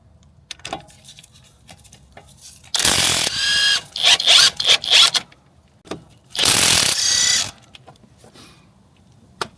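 Ratchet loosening pinch bolt nuts on a Vauxhall Corsa front strut: several bursts of brisk clicking and grinding, two long loud runs with shorter rattles between, close up with no talk.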